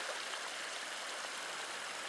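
A forest creek in winter flows with a constant soft rushing and trickling wash, faint and steady, with no voices.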